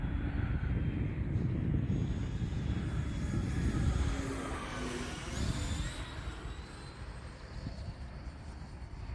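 An E-flite 90mm Viper RC jet with an electric ducted fan passes overhead with a steady whooshing whine that rises and then slowly fades.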